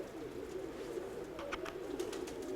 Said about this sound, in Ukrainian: Що, що за кіпіш? О, ця голубка.